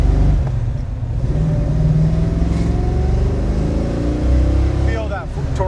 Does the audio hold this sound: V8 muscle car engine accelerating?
yes